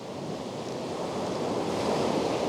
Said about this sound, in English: Just waiting for some of those bigger waves to come through.